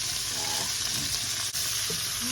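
Onions fry in a pot with a close, continuous sizzling hiss and the soft scrape of stirring, a short steady stretch with no voices.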